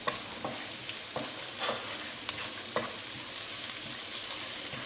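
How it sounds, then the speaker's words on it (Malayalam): Chopped onion fries with garlic, green chilli and ginger in a pan, a steady crackling sizzle with several brief spatula taps and stirring scrapes. "ചോപ്പ് ചെയ്ത് വെച്ചിരിക്കുന്ന സവാള ഇട്ട് കൊടുക്കാം."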